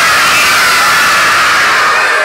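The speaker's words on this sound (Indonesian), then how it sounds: "Coba lebih kencang lagi teriaknya." A group of young children at a storytelling show with a rooster puppet shout together at full volume, one loud sustained roar of voices that fills the room from start to finish.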